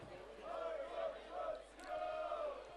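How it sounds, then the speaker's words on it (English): Football supporters at a Victorian Premier League match between Melbourne Knights and Richmond chant in rhythmic, swelling waves, a crowd in full voice heard from a distance. "a good crowd in attendance watching this round 5 Victorian Premier League"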